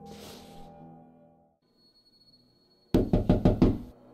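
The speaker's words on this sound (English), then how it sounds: "Someone's knocking on my door!" Knocking on a door in a horror video game: after a quiet ambient stretch, five loud, evenly spaced knocks land close and sharp.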